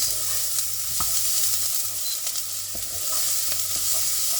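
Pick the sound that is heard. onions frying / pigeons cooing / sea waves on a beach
onions frying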